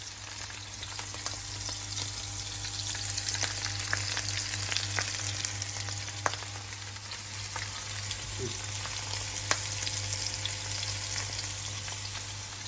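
Onions sizzling in a pan on an electric hob, a dense continuous crackle and hiss with scattered sharper pops, steady and close with no talk.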